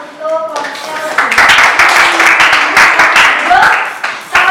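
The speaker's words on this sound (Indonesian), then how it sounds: "kita berikan tepuk tangan untuk kelompoknya Lutfi" Classroom applause for a student group, a brief voice at first, then a dense, steady patter of many hands clapping that fills the room for several seconds.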